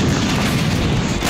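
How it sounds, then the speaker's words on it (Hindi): A K9 Vajra 155 mm self-propelled artillery gun fires, a loud, dense blast that fills the whole moment with broadband roar and no voices. "अब K9 वज्र तोप की तेजी और क्षमता भी देख लीजिए।"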